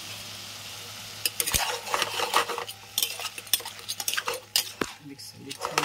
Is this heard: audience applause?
no